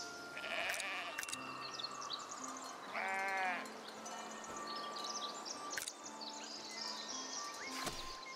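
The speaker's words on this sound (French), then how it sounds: "Et là, j'ai mes moutons." Sheep bleat in the medieval village-building video game Foundation, one clear wavering bleat and fainter calls over a steady bed of crickets, insects and ambient countryside game sound.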